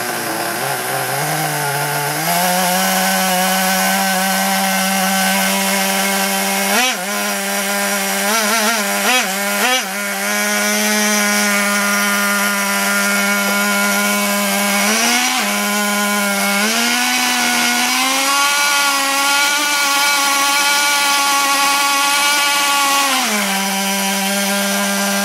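A small RC model engine revs high and hard, whining steadily with the pitch jumping up and down over several throttle changes, loud and close throughout with no talk.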